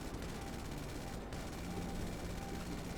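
Rapid cannon fire from a UD-4L Cheyenne dropship in a GTA 5 mod, a continuous dense burst of shots heard alone at moderate level, with a short break midway.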